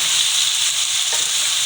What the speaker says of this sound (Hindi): अब इसमें मैंने 2 बड़े टमाटर ऐसे काट लिए हैं, अगर आपके पास छोटे हैं तो 3 डाल दें। इसको डाल के इसको भी थोड़ा सा भूनेंगे